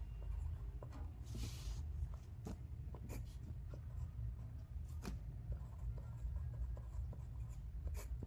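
Pen or marker scratching steadily across a paper map while labelling a place name, a continuous soft writing texture with occasional small taps, close and moderately quiet, no talking.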